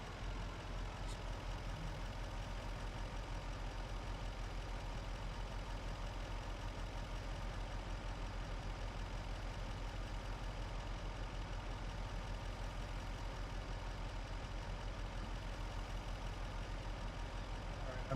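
A tractor engine idles steadily in a farming video game set on the Iowa Plains map, a continuous low rumble that holds at an even level throughout with no talk over it.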